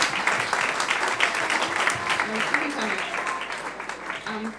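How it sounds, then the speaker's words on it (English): A crowd at an awards night claps continuously, a dense patter of applause with a voice heard faintly through it. "Give her a round of applause, please."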